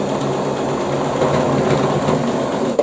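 A sewing machine runs steadily while stitching a simple scullery curtain, giving a continuous mechanical whirring hum with no pauses.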